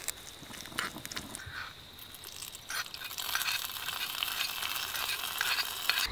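Mustard seeds, Byadagi chilli and curry leaves crackle in hot oil as a tempering for a coastal jackfruit-seed and cucumber curry, with soft stirring scrapes first and the sizzle growing louder and denser partway through.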